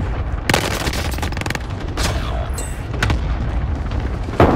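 PPSh submachine gun firing in a video game, with loud rapid bursts and booming shots over a constant noisy background.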